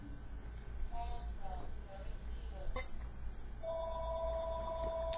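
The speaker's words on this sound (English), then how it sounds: "I'll take this break till my phone stops ringing." A telephone rings in a room, a steady electronic tone starting partway through and holding to the end, preceded by faint clinks and soft background noise.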